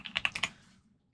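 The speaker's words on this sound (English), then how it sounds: "typing in command prompt, opening command prompt, and typing in ipconfig" Typing on a computer keyboard while entering a command prompt instruction, a quick run of about four or five crisp close keystrokes in just under a second, then stopping.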